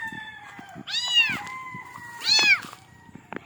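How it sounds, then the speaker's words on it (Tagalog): Cat meowing outdoors: two distinct, clear meows a second or so apart, fairly close, over faint background rustling. "May pusa dito."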